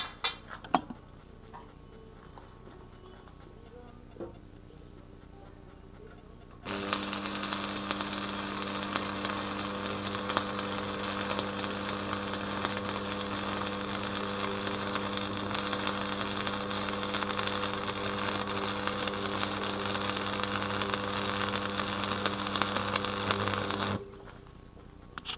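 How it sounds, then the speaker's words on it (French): Electric welding on the metal parts of a sheet metal bending brake, a steady buzzing crackle with a strong constant hum that starts abruptly after a few light clinks and runs unbroken for about seventeen seconds before cutting off. "Donc maintenant je pense que je vais souder"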